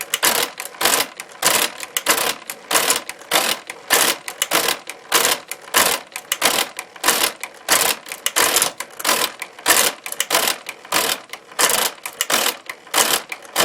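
An old Unitas mechanical calculator is cranked repeatedly, each turn producing a loud ratcheting clatter of step drums in an even, rapid rhythm that continues throughout.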